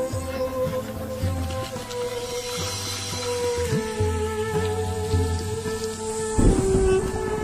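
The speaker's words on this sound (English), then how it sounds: "The annual rains bring a deluge that in a matter of weeks will turn the sepia landscape emerald green." Heavy monsoon rain pours down across a parched landscape, a steady dense hiss with low rumbling beneath, running continuously under sustained music.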